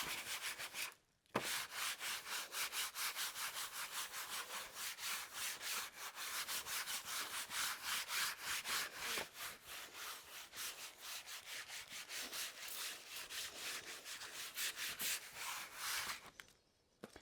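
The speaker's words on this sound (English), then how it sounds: "I'm gonna use this Japanese Baron to just rub" A Japanese baren rubs back and forth over paper on a printing block, a steady rapid swishing scrape that fills the whole stretch with brief pauses near the start and end; no voices.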